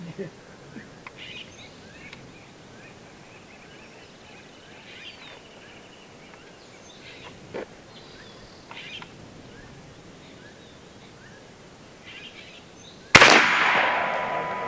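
A single sharp crack from a Challenger Pro 357 PCP air rifle firing at an outdoor target range, loud and sudden near the end, followed by a brief ringing decay after a stretch of quiet ambient chirps and faint talk.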